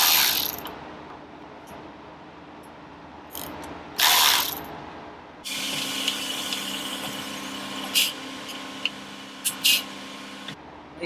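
Ratchet clicking in short bursts while loosening the two pinch bolts on the front forks of a 2005 Honda VTX1300 with an Allen bit, close up, with pauses and a few sharp metallic clicks between bursts.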